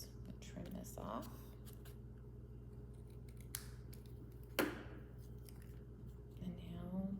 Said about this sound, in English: we'll trim this off